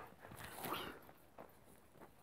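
A dog in The Sims video game whimpers and yelps softly, a faint, brief whine rising over quiet background sound with a couple of short yips afterward.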